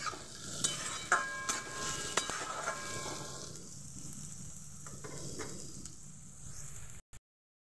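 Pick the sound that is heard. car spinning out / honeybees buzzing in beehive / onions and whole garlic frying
onions and whole garlic frying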